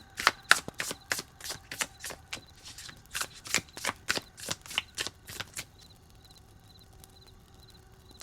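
Tarot cards are shuffled and drawn by hand, giving a series of crisp, quiet flicks and snaps in an irregular rhythm that taper off into near silence.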